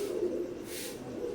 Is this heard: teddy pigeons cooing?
yes